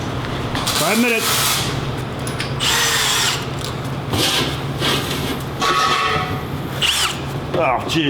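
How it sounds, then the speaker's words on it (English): A power drill bores holes in loud, continuous high-pitched whirring bursts, with brief screeches and gaps between runs and a voice speaking over it. "Now I know where to drill."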